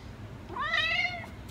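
A cat meows once at a veterinary clinic in Norway, a single clear, close, drawn-out plaintive call over quiet room background.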